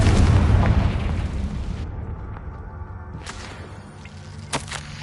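A fiery Confringo spell blast in Hogwarts Legacy, a broad loud burst at the start that rumbles and fades, followed by a few sharp magical crackles and a small pop near the end.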